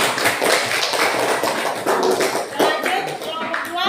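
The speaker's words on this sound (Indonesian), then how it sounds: "tepuk tangan untuk kelompok 1" Classroom clapping for a student group in a school lesson, a burst of many hands tapping unevenly and close, with some voices mixed in.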